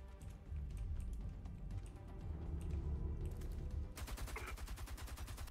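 Gunfire in the shooter game Homefront: The Revolution, with dense bursts of shots and battle noise building to a rapid, evenly spaced automatic volley near the end, loud and close.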